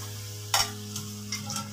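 Fried chicken tipped into a pan of sauce with oyster sauce, giving a soft sizzle and a few scraping stirs against the pan, quiet and close with no talking.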